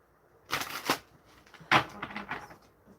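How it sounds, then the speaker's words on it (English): Tarot cards being shuffled give two quick bursts of crisp, papery riffling, each trailing into lighter rustles, close to the listener in an otherwise quiet room. "Hopefully you guys can hear the crazy shuffling."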